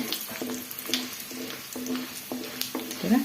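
Byadagi dry red chillies fry in hot oil with a steady, close sizzle, punctuated by a few soft stirring scrapes and small pops; no one speaks.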